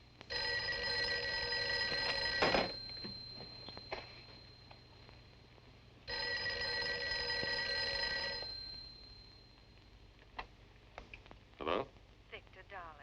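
An old telephone bell rings in two long bursts, each about two seconds, separated by a pause, followed by quieter room sounds and brief speech.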